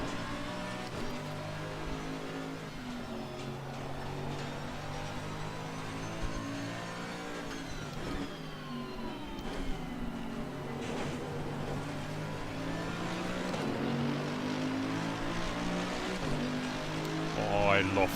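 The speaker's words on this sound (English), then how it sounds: "Oh, I love the sound, the grunt of the V8." V8 race car engine in the sim racing game Assetto Corsa Competizione at Monza, a continuous growling drone rising and falling through gear changes and braking, with other cars around and a commentator talking over it.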